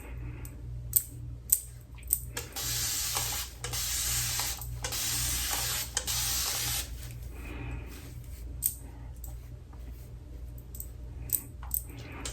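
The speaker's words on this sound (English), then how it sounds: "I usually spray into the roots to get the hair to kind of fall" Several short bursts of hiss from a spray bottle misting the roots of sisterlocks hair, each lasting a moment, over a low steady hum, with light clicks and handling noises between them.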